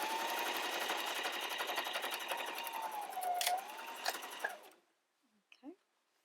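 A sewing machine runs in a fast, steady mechanical whir for about four and a half seconds while back stitching, briefly changing pace before stopping, followed by a couple of faint handling sounds.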